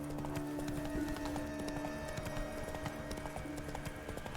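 Horse Roach in Witcher 3 moves at a steady clip-clop, the hoofbeats distinct and fairly close, layered over a busy game soundscape with a sustained tonal ambience underneath.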